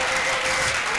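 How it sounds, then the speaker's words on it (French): Steady, full applause from a large audience at an outdoor church salvation and healing crusade, a dense unbroken wash of clapping throughout. "Clap for Jesus."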